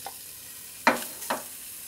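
Diced lardons hit a dry saucepan with no fat, giving two short bursts of sizzling and stirring that crackle briefly and fade, heard alone in a kitchen.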